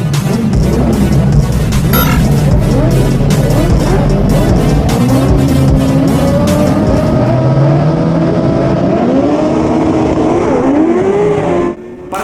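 Race cars in a racing video game roar off the start of a race, a dense, loud layer of engines revving and climbing in pitch with overlapping whines, steady throughout before cutting off abruptly near the end.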